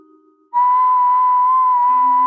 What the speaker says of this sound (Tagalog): nang marinig ang pamilyar na tunog ng sipol na yun